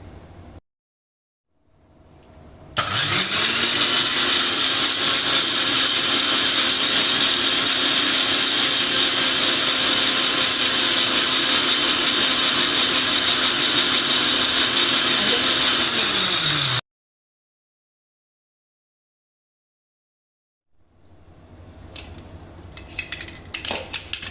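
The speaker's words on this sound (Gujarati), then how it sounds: "હવે એને ઢાંકીને મિક્સરમાં ક્રશ કરી લઈશું" A covered mixer grinder whirs through a lemon-mint sherbet mix with jaljeera powder and water, spinning up sharply, holding a loud, steady motor whine for about fourteen seconds, then cutting off into silence before faint clattering.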